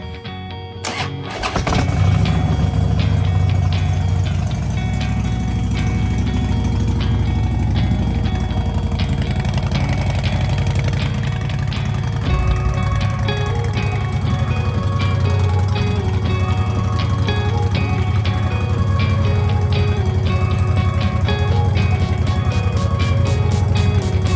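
A 2010 Harley-Davidson Street Glide V-twin cranks and fires, then settles into a loud, steady, lumpy idle close by that continues without letting up.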